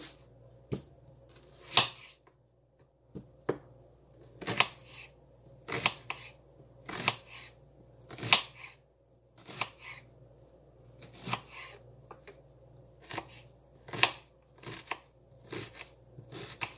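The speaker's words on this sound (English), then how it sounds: "Let's chop our onions." A kitchen knife chops onions on a cutting board while a meatloaf is made from scratch, giving a steady run of sharp, close, loud chops and crunches at an uneven rhythm, about twenty strokes with brief pauses and no talking.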